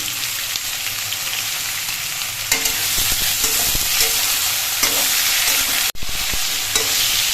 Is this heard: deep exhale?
no